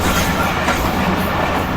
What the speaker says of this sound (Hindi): तो ये मंडोर रेलवे स्टेशन पर हम एक मालगाड़ी को भी ओवरटेक कर रहे हैं